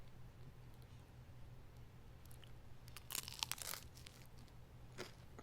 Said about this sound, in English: Guess what? It's so good. It's so crunchy.